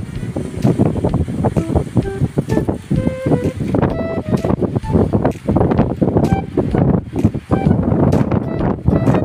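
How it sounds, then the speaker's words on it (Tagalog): Strong wind roars continuously into the microphone, buffeting and rumbling throughout with loud gusty bursts. "Napakalakas ng hangin"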